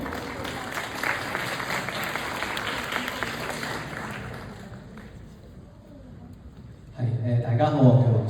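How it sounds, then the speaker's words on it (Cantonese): An audience at a university singing contest applauds a contestant, a steady sheet of clapping that fades gradually before a speaker's voice takes over near the end. "掌聲。"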